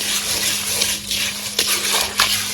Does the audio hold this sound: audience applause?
no